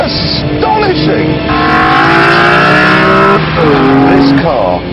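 BMW M3 E46 CSL driven hard on the Isle of Man roads, its engine note rising and falling in loud, sustained harmonic sweeps as it revs through the gears close by, with a person speaking over it.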